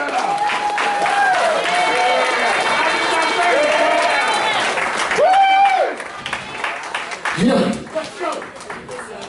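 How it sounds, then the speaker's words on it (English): A comedy homecoming crowd claps and cheers for the comedians, a loud, dense roar of applause and shouting, with whoops and voices rising over it before thinning into scattered chatter. "Everybody give all the other comedians a round of applause"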